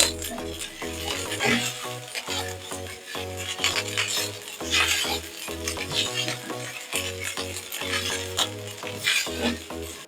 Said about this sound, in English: Now I can add the meat.